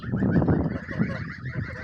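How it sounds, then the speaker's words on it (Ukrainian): Goslings chatter and honk in a busy cluster in a poultry yard, short overlapping calls close by with no talking. "О, дивіться, малі гусенята гасають"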